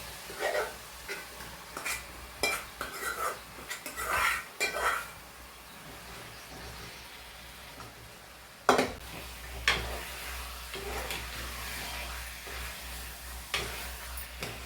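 A spoon scrapes and clanks against a pan of chicken curry in short bursts, with a soft sizzle beneath and one sharp metallic knock partway through, all fairly quiet and close, with no talking.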